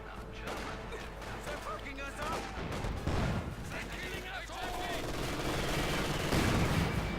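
MG-42 machine gun fire in a Company of Heroes 2 match, with rattling bursts and other battle noise mixed together under a commentator's voice.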